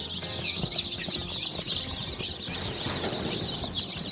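A cluster of three-day-old chicks in a brooder peeping constantly in high, overlapping chirps, close by, with faint rustling and a low background hum.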